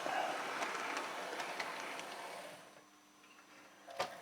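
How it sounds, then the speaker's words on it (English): Model train tanker wagons clatter over turnouts, a series of light rhythmic ticks and clicks that fade toward a quieter stretch, then a final sharp click near the end, all faint with no talking. "the tankers want to do their own thing the minute they get dragged over these turnouts"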